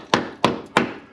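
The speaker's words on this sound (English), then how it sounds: "What did I say about hitting stuff with a hammer? It will reveal the holes." Three heavy hammer strikes land on the rusted rear passenger-side wheel well of a car, each a sharp, close metallic thud spaced about a third of a second apart.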